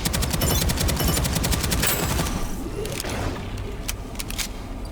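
Rapid bursts of gunfire in the online shooter Deadzone: Rogue, in Zone 4, loud and dense at first, then thinning into scattered shots over a steady rumble.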